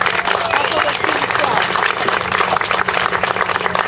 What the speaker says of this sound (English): A round of applause for Kevin.